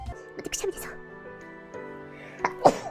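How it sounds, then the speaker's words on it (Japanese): A person sneezes sharply near the end after a short buildup, with brief breathy sounds and faint background music underneath. "待って、くしゃみ出そう。"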